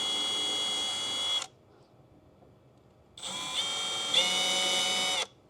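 A small drill bit drilling into a center mark, two bursts of high, buzzing motor whine separated by a pause of near silence, the second burst longer and rising slightly in pitch partway through.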